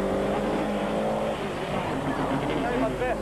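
A Group N rally training car drives hard at a rally event, its engine loud and continuous with a dense roar, while a commentator speaks over it.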